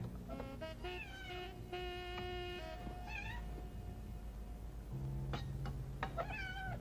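A cat meows repeatedly, with several short and drawn-out cries in varied pitch over a low background hum, fairly faint and with no talk over it.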